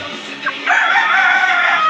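A rooster crows loudly and close by, one long drawn-out call after a brief short note, in a probiotic-raised flock of two-month-old chickens.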